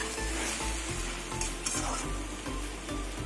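Katla fish with taro stolons and gondhoraj lemon leaves fries without water in a pan, a loud, steady sizzle broken by regular scraping stirs of a spatula roughly every half second.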